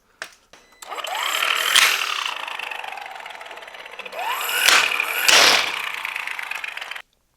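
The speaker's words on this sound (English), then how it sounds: "My Vevor kit also came with the impact wrench" A Vevor impact wrench loosening lug nuts on a 2025 Ram 1500 Rebel wheel, a loud sustained whirring run with two sharp rattling bursts of hammering partway through, heard up close with no talk.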